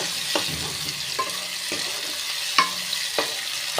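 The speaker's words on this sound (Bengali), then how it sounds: "ভালো করে ভেজে নিতে হবে" Pointed gourd frying in a pan, heard as a soft, continuous sizzle broken by several sharp clicks and scrapes of a spatula stirring, close by with no talking.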